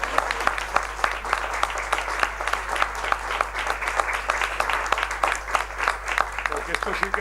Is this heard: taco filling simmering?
no